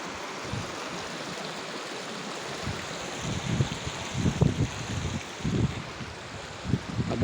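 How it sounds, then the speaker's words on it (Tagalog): Muddy runoff from a typhoon flows down a mountainside beside a damaged road in Occidental Mindoro, Philippines, a continuous rushing stream with wind buffeting the microphone and louder surging bursts in the second half. "ang daloy ng tubig galing sa taas,"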